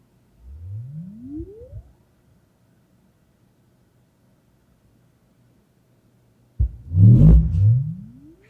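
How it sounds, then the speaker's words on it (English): A pure sine tone sweeps upward from 20 Hz through an FBT Subline 112SA active 12-inch subwoofer, then after a pause a second louder rising sweep with rattling buzz and distortion follows. "So we'll do sine wave."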